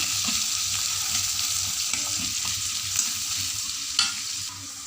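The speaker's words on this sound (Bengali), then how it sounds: "এটাকে আমি 5 মিনিট নাড়াচাড়া করবো, করলে বেরেস্তা রেডি হয়ে যাবে।" Onions frying for beresta for a beef biryani, cooked over a wood-fired stove, sizzle in a steady broad hiss while a utensil stirs them, with a few sharp scrapes and clinks against the pan and no talking.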